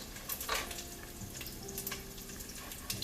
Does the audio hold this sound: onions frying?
yes